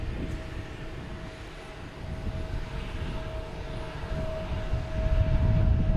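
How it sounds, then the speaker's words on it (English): A JetBlue airliner heard from the ground at Boston Logan Airport, with a steady engine roar that holds a faint whine and grows louder and heavier toward the end. No one speaks. "We have a JetBlue heading to LAX"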